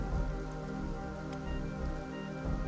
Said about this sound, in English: here comes the acid fucking rain